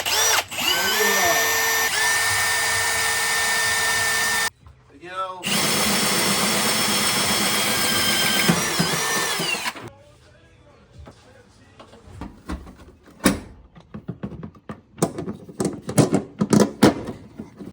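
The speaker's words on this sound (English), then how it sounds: "We're gonna drill a hole right there in the firewall." An electric drill whines loudly in two long bursts through a Ford F100 truck's firewall, with a short pause between, followed by quieter scattered knocks and handling sounds.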